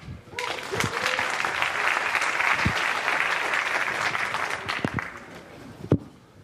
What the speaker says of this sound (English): Let's applaud him.